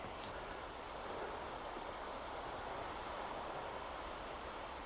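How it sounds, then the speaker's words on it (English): Waves wash into the shore at a horseshoe beach cove near a harbour, a steady broad roar of surf with wind buffeting the microphone, continuous and moderately distant. "Can you hear the waves crashing into the shore here?"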